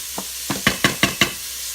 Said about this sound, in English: So I'm going to saute that for a minute